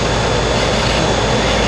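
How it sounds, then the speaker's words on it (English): An HVAC system pumps down with its contactor energized, giving a loud, continuous broadband roar of machinery that stays steady throughout the short stretch, close and with no voices. "now the system is pumping down because the contactor is energized"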